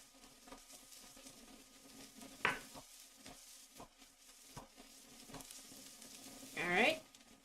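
Spinach and onions sizzle softly in a pan for mini quiches, with a quiet steady frying hiss and scattered light taps of stirring. A couple of louder squeaky scrapes stand out.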